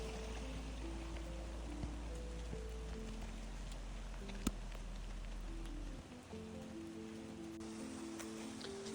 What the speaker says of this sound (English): ఇప్పుడు మేము వచ్చేసరికి ఇక్కడ కొంచెం మైల్డ్గా రెయిన్ అయితే పడుతుంది